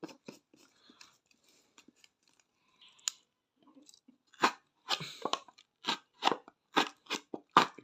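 Packaging of a Gat Nitraflex pre-workout tub being opened by hand, heard as sparse small clicks and crinkles at first, then a run of louder, closer tearing and crunching bursts in an irregular rhythm, with no speech.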